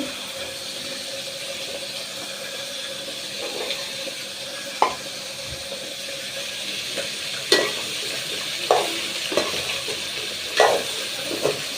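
Chicken fries in a pan with a continuous hiss, while occasional sharp clicks and scrapes from stirring rise above it, close and moderately quiet, with no talk.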